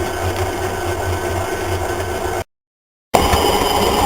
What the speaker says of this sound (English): Mixer's kind of loud.